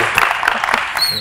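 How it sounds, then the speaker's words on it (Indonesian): Brief burst of audience applause for a basketball player at a dunk event, a short crackle of clapping mixed with voices. "Tepuk tangan untuk Vincent Kosasi"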